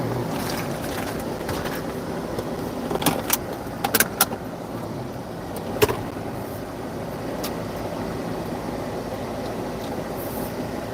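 A car on a highway across Iowa gives a steady, continuous road and engine rumble inside the cabin, broken by a few faint clicks and rattles.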